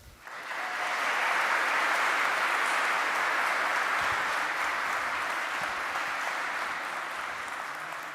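Audience at a Duke Divinity School panel discussion applauding to welcome Dr. Ellen Davis: steady, sustained clapping from a large crowd that swells quickly and holds for about eight seconds, slowly tapering.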